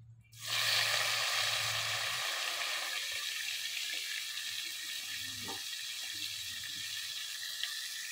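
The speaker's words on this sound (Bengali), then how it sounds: "তেলটা গরম হয়ে গেছে, দিয়ে দেব চিংড়ি মাছ।" Prawns dropped into hot oil burst into a sudden loud sizzle, then keep frying with a steady hiss that slowly settles, with a low hum in the background.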